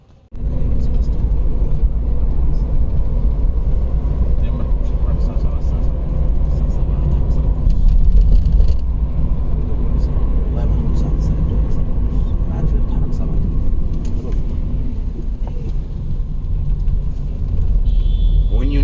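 A car drives through Cairo traffic near the Qasr al-Nil bridge, giving a continuous low road and engine rumble from inside the vehicle, with muffled talk at times.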